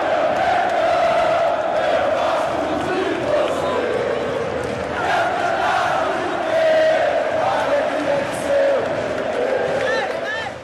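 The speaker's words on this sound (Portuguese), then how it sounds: "E o pessoal canta Cante Comigo, Mengão." Flamengo supporters in a stadium chanting the Conte Comigo, Mengão song together, a loud massed crowd of voices singing a steady melodic chant throughout.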